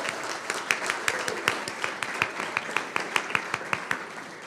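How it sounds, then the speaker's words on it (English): Applause from a modest group of attendees at a school district board meeting, with distinct individual claps standing out over a steady wash of clapping for the full stretch, moderately distant in the room. "Marlin a round of applause."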